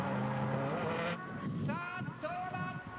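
Drift car at the 2012 D1SL Round 5 at Maze, engine revving with tyres squealing and skidding as it wobbles through a hairpin, loud and close, with an announcer's voice intermittently over it.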